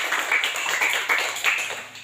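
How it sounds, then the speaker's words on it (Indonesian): A classroom of students claps after a classmate finishes reading aloud: a brief, fairly steady burst of hand claps lasting about two seconds, moderately loud and heard on its own. "Mari tepuk tangan."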